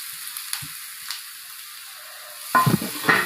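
Crushed garlic sautéing in a pan for garlic chutney, a soft steady sizzle with a few faint stirring scrapes, then louder spoon-against-pan stirring near the end.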